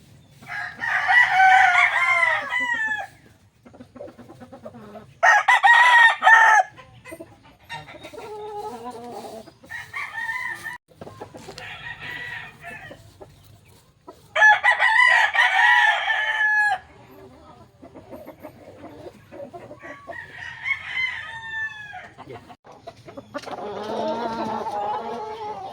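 Gamecock bullstag roosters crow repeatedly from nearby pens, several loud, drawn-out cock-a-doodle-doo calls spaced a few seconds apart, with fainter clucks and distant crows between them.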